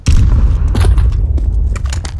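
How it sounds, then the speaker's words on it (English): A grenade goes off in CS:GO, a loud close boom with a deep low rumble that rolls on for a couple of seconds, followed by fainter clicks and clatter. "Grenade."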